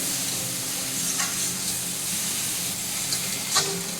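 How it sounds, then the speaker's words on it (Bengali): A masala of ground tomato and chili powder sautés in oil, giving a loud, steady close sizzle with a few faint scraping strokes of a spoon stirring the pan. "এটা থেকে যতক্ষণ না তেল ছাড়ছে এটা একটু কষে নিতে হবে।"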